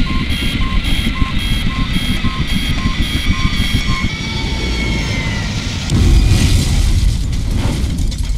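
An aircraft goes down in a Project IGI game cutscene, loud engine roar with repeated warning beeps, then a heavy rumbling explosion swelling near the end.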